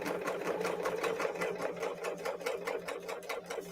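A serger stitching steadily along a fabric edge while laying in a strand of pearls to make beaded wired ribbon, its rapid rhythmic needle chatter close and continuous, with no talking.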